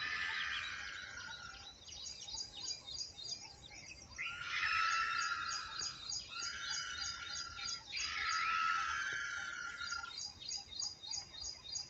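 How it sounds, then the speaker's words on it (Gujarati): Peacocks, crows and sparrows call and chirp outdoors in bursts, a busy chorus of overlapping calls rising and falling, with a faint insect-like buzz underneath. "મોરલો રાયણ કાગડા"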